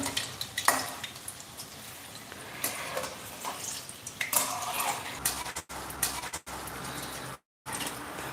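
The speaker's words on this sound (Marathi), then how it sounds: "छान मस्त असं क्रिस्पी होस तर तळून घ्यायचं" Vegetable cutlets deep-frying until crisp in hot oil, a continuous close sizzle with scattered utensil clinks and stirring, with a few abrupt dropouts near the end and no talking.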